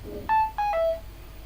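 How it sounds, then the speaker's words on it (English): A short notification chime on an Android phone: three clear electronic tones in quick succession, close and loud, with no talk around them. "Okay, I got notification."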